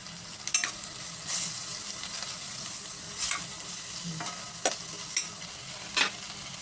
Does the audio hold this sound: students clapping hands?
no